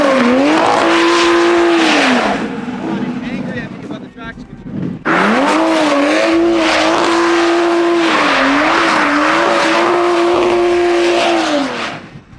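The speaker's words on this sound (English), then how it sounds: "It does some burnouts, it does some slides" A rally car built from a Toyota Supra revs hard and wails through long sliding skids, tires screeching, with a brief lull midway before another loud, sustained drift.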